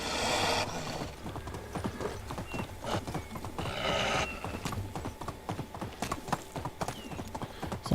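Horse galloping in the medieval video game Medieval Dynasty, rapid rhythmic hoofbeats over ground that run steadily throughout, joined by two bursts of whinnying near the start and the middle.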